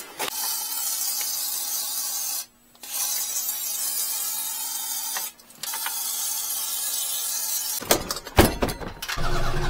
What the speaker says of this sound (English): Wonder if I could spray some WD-40 and let it penetrate